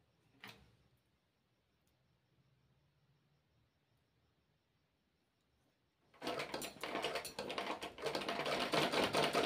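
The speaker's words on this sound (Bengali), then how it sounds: "প্রথম আমি এটা সেলাই দিয়ে নেব" A sewing machine stitching pieces of fabric together for a women's underwear garment runs in a fast, loud, continuous rattling burst near the end, after a quiet stretch with a faint click.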